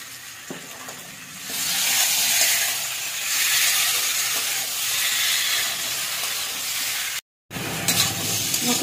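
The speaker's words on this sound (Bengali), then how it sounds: "মশলা কষানো হয়ে গেছে" Spices, turmeric and salt cooking with kohlrabi and fish in a pan sizzle and hiss under occasional stirring, a steady frying texture that swells midway, briefly cuts out, then resumes.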